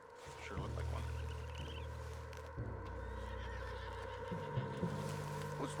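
Horse neighing in Red Dead Redemption 2 against a low, steady game ambience with a droning hum, a whinny rising early on, then a few soft hoof and tack sounds.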